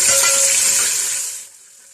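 Garlic and ginger paste sizzles in a hot pan while mutton biryani is cooked, a loud, bright crackling hiss that fades out within two seconds.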